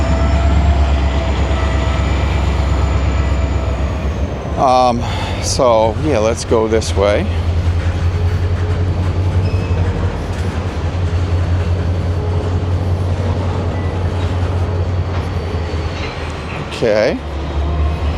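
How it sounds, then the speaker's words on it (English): A train at Bound Brook station in New Jersey, a loud low steady rumble and hum of the idling or moving rail cars filling the platform, with a person talking briefly over it. "So this is the Bound Brook train station"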